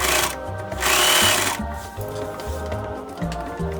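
Sewing machine stitching a fabric seam for a 1967 Andre Courreges mod dress, short rhythmic bursts of rapid mechanical whirring that start and stop repeatedly, close and fairly loud.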